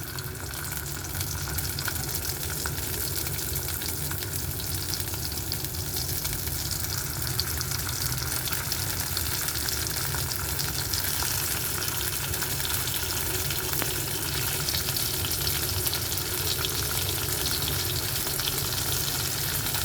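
Tomatoes fry in a pan for a vegetable curry, giving a steady, close sizzle with a watery, bubbling edge that runs unbroken throughout, and no voices are heard.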